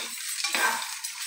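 Dry spices being stirred and fried in a pan, a short burst of scraping and light sizzling, close and fairly loud with no talking.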